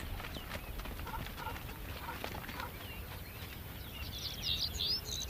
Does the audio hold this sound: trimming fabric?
no